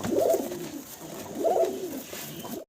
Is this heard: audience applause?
no